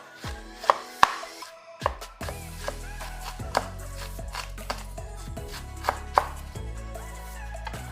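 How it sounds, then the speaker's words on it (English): A knife chops through cabbage on a board, sharp percussive strikes in an irregular rhythm, close and clear with no talking. "To cut your cabbage, honestly, I like to cut it like I'm making my Nigerian salad"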